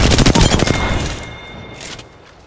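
Rapid automatic gunfire in the battle royale shooter Apex Legends, a loud close burst of shots in the first second that trails off into fading echoes and faint scattered pops.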